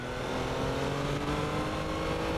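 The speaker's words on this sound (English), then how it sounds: "It has strong engine braking." A 2021 Triumph Trident motorcycle engine under engine braking gives a steady, droning, mid-pitched tone at close range that holds evenly over the short span, with no talking.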